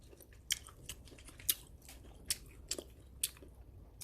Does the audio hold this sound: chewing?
yes